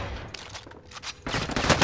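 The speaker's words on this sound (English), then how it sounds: "I'm getting shot at already" Rapid bursts of video game gunfire aimed at the player, close and loud automatic fire in quick crackling volleys that grow denser toward the end, with no talk over it.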